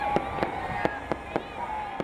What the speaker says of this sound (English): That fireworks program you see at the Space Needle every year?